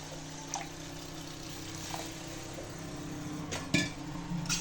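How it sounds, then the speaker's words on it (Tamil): Water is poured into mushroom kalan cooking in a pan, making a soft liquid splash under a low background hum, with a few light metallic clinks from the pan and utensils. "இப்போ நம்ம தண்ணி ஆட் பண்ணிக்கலாங்க."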